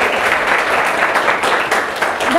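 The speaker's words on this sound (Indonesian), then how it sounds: "Saya boleh minta tepuk tangannya." Audience applause at a community health broadcast event in Cirebon, a dense, steady wash of clapping filling the whole stretch at close, even loudness.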